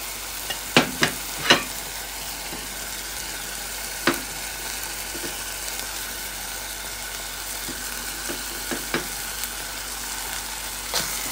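Onion and garlic frying in a pan for goulash soup, a steady soft sizzle running throughout with a few sharp clinks and stirring knocks scattered over it, close and alone with no talk.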